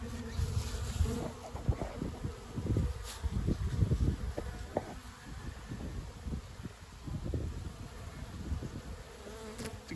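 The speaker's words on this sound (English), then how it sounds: "It's a good little box of bees." Buckfast honey bees buzz steadily inside a hive box, a close, dense drone with the hum of individual insects rising and falling throughout, mixed with light wind or handling noise.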